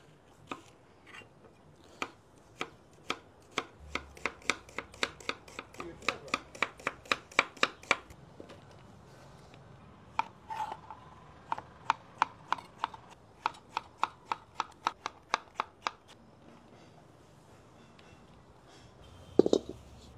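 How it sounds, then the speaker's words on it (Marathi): A knife chops ingredients for murg musallam gravy on a board in quick, close, crisp bursts of rapid strokes with brief pauses, ending in a louder knock. "ग्रेव्हीसाठी आपण कटिंग करून घेतोय"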